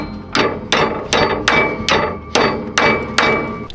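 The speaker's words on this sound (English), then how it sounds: "we're gonna hammer this back in place" Seven sharp, evenly spaced hammer strikes ring out close and loud on a vehicle's sway bar, knocking it back into place on an off-road trail.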